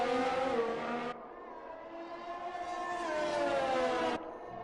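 Racing cars in a racing video game, pre-season test session in Austria: a loud, sustained engine whine that climbs steadily in pitch, cutting briefly and then resuming as a car passes close by.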